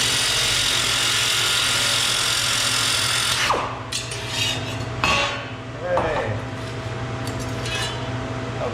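A power tool cuts through a metal shaft enclosure, a steady loud grinding whine running for several seconds before breaking into intermittent bursts and clinks as the blade works through the flat section, with no talking.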